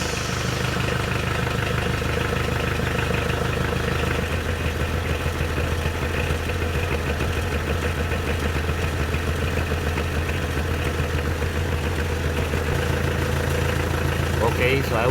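A car engine idles steadily while its power steering hydraulic fluid is being drained, a constant low hum and rumble that runs unbroken under a voice talking nearby.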